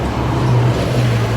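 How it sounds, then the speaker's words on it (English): A bus rounds a corner on a narrow street in Penang, its engine a steady low hum with traffic noise around it. "oh, there's a bus coming around the corner."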